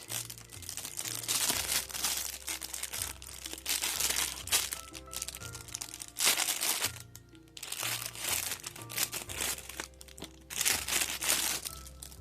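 Thin plastic protective covers on a shower hose and fittings crinkle and crunch in repeated bursts while a waterfall and handheld shower kit is unpacked, with brief pauses between handfuls.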